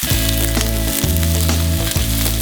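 White onions fry in a pan with a loud, close, continuous sizzle, pulsing slightly as they are moved about, with no talk.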